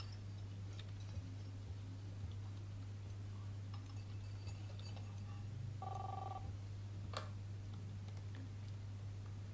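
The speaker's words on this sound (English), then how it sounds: "Was that a cell phone?" A short electronic cell phone ring in Life is Strange, a brief buzzing trill partway through over a steady low hum and faint ticking, quiet and with no talking.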